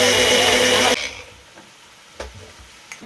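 An electric kitchen grinder grinding poppy seeds runs with a loud, dense whirr for about a second, then cuts off abruptly, leaving near quiet with a couple of faint knocks.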